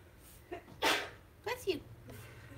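A single sharp sneeze bursts out close by, followed by a few brief vocal sounds against a low background hum.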